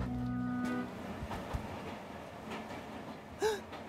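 A cartoon train running along its track, a steady faint rumble with soft rhythmic clacks, a brief whistle toot near the end and a short tone at the start.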